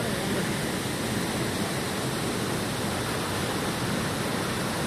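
Cachoeira do Fundão waterfall in the Serra da Canastra roars as a loud, unbroken wash of rushing water, steady and uniform throughout with no voices.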